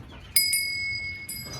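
A ram's bell on a summer pasture rings in two bright, ringing strikes close together, then again about a second later, each tone lingering over a low rumble of wind or distant ambience.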